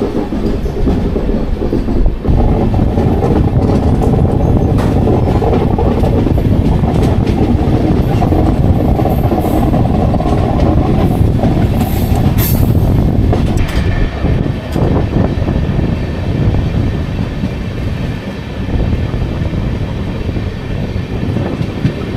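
13009 Doon Express with new LHB coaches rolls along the line, a loud, steady rumble of wheels and carriages with rhythmic clatter running unbroken throughout.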